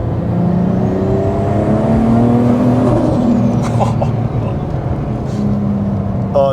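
Sports car engine of a one-off banned JDM icon revving and accelerating, a rising and falling whine that stays loud and close under road noise throughout.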